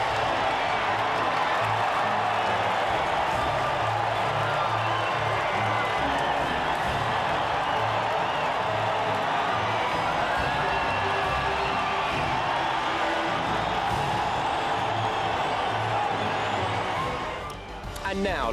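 A crowd cheers and claps at the podium after a race in the F1 2020 video game, a broad, steady roar sitting under a commentator's voice almost the whole time.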